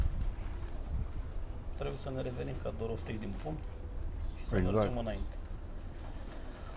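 Pigeons coo softly in the background at a loft in Bucharest, Romania, mostly buried under someone talking in Romanian nearby.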